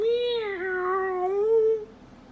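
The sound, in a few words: loud cat meow sound effect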